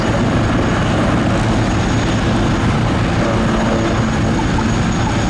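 A pair of AgustaWestland Wildcat helicopters performs a nose-to-nose climbing display manoeuvre at an air show, giving a loud, steady rotor and turbine roar that fills the whole stretch with no voices.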